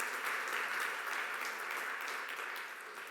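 Congregation applause during a church service, a dense, steady patter of many hands clapping together, sustained throughout and fading slightly toward the end.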